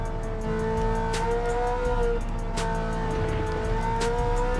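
A race car engine in Gran Turismo 7 runs steadily at high revs, its loud tone shifting slightly as it climbs and dips, with faint clicks over the top and no talk.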